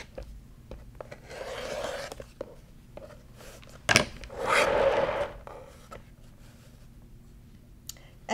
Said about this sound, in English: it's time to do the final trimming on the courthouse steps block